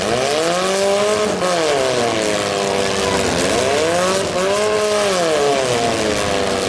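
Stock compact race cars roar around a dirt oval during a Fall Brawl heat, several engines overlapping with rising and falling revs, loud and continuous throughout.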